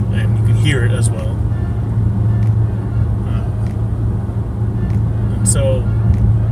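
Interior of a new car while driving: a steady low road and engine rumble fills the cabin throughout, with occasional faint clicks and squeaks over it.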